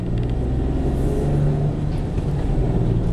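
Citroen C1 five-door Rhythm running on LPG pulls away and accelerates through the gears, a steady, loud low engine drone filling the whole stretch with no talk over it.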